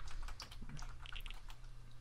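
Typing on a computer keyboard in a quick run of light key clicks and taps, close and fairly quiet, with no voices.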